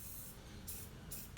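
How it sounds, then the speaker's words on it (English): WD-40 lubricant sprays from an aerosol can in two short hissing bursts, close and faint, during work on a 1996 Honda PH16 engine build. "we start off by spraying a little bit of WD-40 just to"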